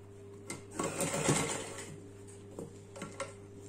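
A sewing machine stitches a double-folded fabric edge, its quiet steady mechanical whir and ticking running close with slight swells and a few light clicks near the end.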